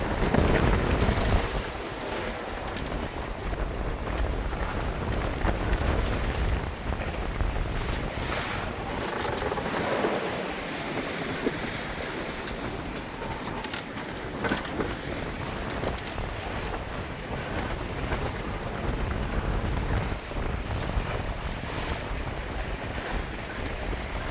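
A boat pitches through waves at sea, with steady rushing water and heavy wind buffeting the microphone, continuous and loud across the whole stretch without talk.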